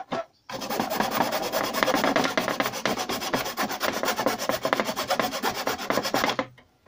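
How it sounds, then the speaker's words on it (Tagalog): A file works steadily along the plastic edge of an old stereo casing, making continuous loud rasping strokes in a dense, even rhythm for several seconds before stopping abruptly. "Kikil-kikil muna sa gilid."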